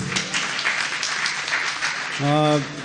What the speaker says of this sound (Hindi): भाई, एक बार तालियां हो जाएं इनके लिए।